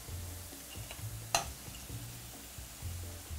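Onion and garlic gently frying over medium-low heat in a pan, a soft steady sizzle broken by the scrape and clack of stirring, with one sharp tap, and no speech.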